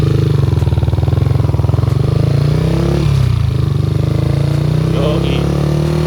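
A motorcycle with a swapped engine in place of a bore-up pulls off in first gear, its engine droning steadily and loudly throughout, close by.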